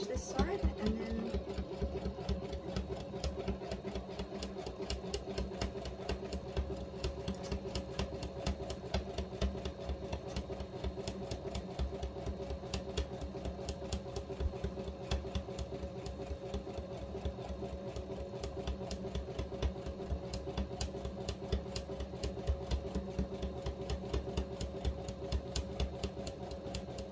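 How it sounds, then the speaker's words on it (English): A sewing machine stitches a fabric sewing machine cover in a steady, rapid mechanical chatter that runs continuously up close, with a low motor hum underneath. "I'm just going to continue stitching without pricking myself with the pins."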